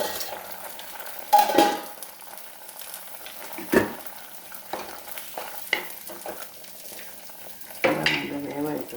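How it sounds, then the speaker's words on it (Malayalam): Cooking a prawn and raw mango curry: a pot lid lifted with a few metallic clanks and scrapes, spaced out over a quiet kitchen background with faint bubbling. "മൂടി ഒന്ന് തുറന്ന് നോക്കാം."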